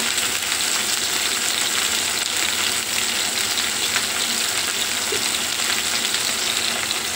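Eggplant seasoned with salt and chili powder fries in oil, giving a loud, dense, continuous sizzle that holds steady and close throughout.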